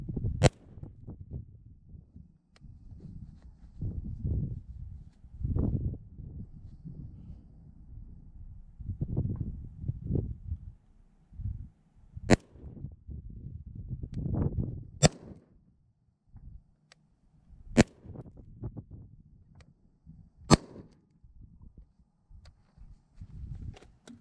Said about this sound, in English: So we're gonna go ahead and shoot 5 rounds and see how it compares.